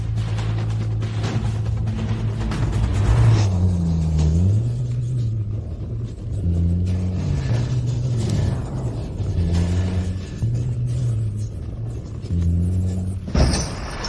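A tampered car's engine revs repeatedly without the car moving off, a low rumbling idle rising into several drawn-out revs and falling back, with a sharp clunk near the end.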